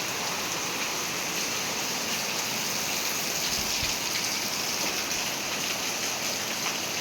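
Heavy rain falls on the ground in a continuous close wash of hiss, with one brief low thump partway through and no talking.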